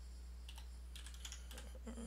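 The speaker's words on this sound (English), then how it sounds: "So I sometimes have to type Chinese." Keys tapped on a computer keyboard while typing Chinese, a few quick irregular clicks in small bursts over a low steady hum.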